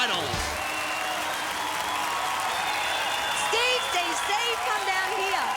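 Studio crowd at a 1995 Australian Gladiators TV show cheers and claps steadily throughout, a dense roar of applause with shouts and whoops rising near the end, while someone talks over it.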